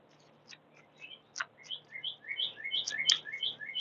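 Small birds chirp in quick, bright, high tweets that grow busier and louder over a few seconds, set against a quiet background with no talking.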